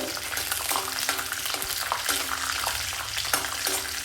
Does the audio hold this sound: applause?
no